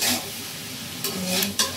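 Boiled noodles and cauliflower are stirred in a pot, a close, loud scraping swirl with hissing wet bursts that rise and fall over a couple of seconds.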